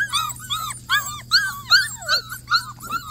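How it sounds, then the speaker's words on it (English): A Border Collie puppy whines in repeated high, wavering cries with short yips, close by over a steady low hum. "Are you barking? Are you barking at somebody?"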